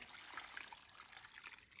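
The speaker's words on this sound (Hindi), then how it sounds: "3 कप इसमें पानी डाल लेते हैं।" Water pours into a keema spice mixture of turmeric, ground cumin and ground coriander, a short, quiet, steady trickling splash.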